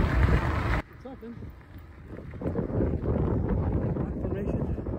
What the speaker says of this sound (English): I'm going into a slight wind